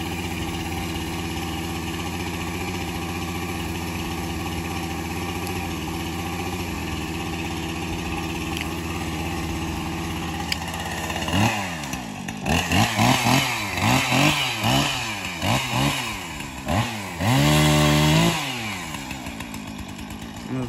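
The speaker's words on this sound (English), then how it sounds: "Chainsaw 30 seconds to warm up here." A chainsaw starts and idles through a long steady warm-up, then is throttled up in repeated rising and falling revs near the end, loud and close, in woodland where ash trees are being felled.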